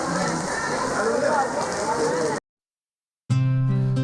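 Rain falls steadily at a Tanzanian train station, a dense close patter on surfaces with faint voices beneath, then a brief silence and a cut to other sound.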